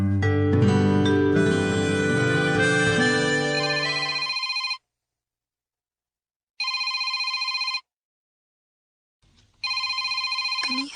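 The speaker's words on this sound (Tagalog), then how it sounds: "Kanihar man yung nagsigigring ang cellphone ni Pablo" A mobile phone ringtone plays loud and close, first as a busy musical passage, then as repeated bursts of a bright electronic tone separated by silent gaps of about two seconds, with no talk.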